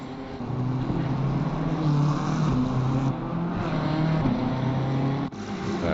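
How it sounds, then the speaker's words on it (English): A BMW race car engine roars steadily at Bathurst in a racing game, a sustained close drone with shifting pitch, briefly dipping near the end. "It sounds good as well, that BMW."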